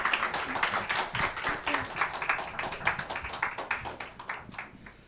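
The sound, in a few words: audience applause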